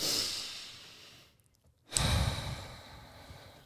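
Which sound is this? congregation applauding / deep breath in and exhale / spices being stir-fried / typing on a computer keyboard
deep breath in and exhale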